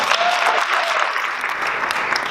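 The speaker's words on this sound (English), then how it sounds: "We should clap for you one more time, I think." An audience at a Genetic Alliance celebration evening claps in a dense, sustained round of applause that runs the whole moment without letup.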